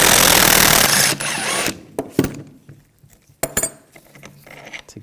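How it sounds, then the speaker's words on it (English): A power tool whirs loudly on an Audi A4 front upper control arm nut and bolt for about a second, followed by sharp metallic clicks and clanks of sockets and parts being handled close by. "Using a 16mm wrench, we're going to take the nut off and the bolt."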